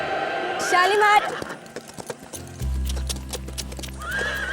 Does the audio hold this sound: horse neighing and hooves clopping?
yes